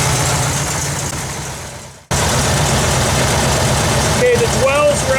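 A Kubelwagen engine idles with a steady low rumble, cuts out abruptly for a moment, then picks back up and runs evenly again, close and fairly loud, with a short voice near the end.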